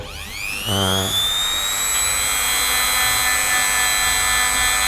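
A small motor-driven cleaning machine, used to clean an M3CHA, spins up at low RPM with a rising whine, then holds a steady high-pitched hum throughout.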